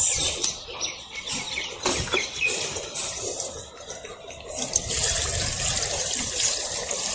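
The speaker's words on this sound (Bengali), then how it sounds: "দেখো জল টানছে হু করে দেখো জল" Water is poured into soil in a basin being prepared for a water lily, giving a soft splashing trickle with gurgling as the soil draws it in, close and moderately loud, with no voice.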